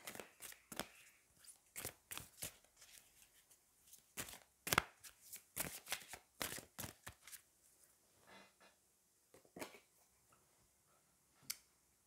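Tarot cards being shuffled and handled in a series of quick, crisp riffles and snaps, close and fairly loud, thinning out toward the end with a final sharp flick.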